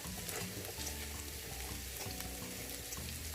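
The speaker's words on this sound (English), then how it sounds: "Now I'm just going to let them simmer" Pork chops simmering in a pan with butter and rosemary, giving a dense continuous sizzle and bubbling crackle that stays even and fairly close throughout, with no talk over it.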